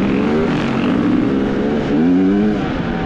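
An enduro motorcycle engine drones close by while being ridden, its pitch rising and falling as the rider shifts gears.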